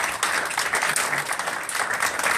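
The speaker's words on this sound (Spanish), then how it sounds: "Un aplauso." Audience applause fills a lecture hall during a talk on Mexican comic books at an arts venue in Cuautla, a steady dense patter of many hands clapping throughout.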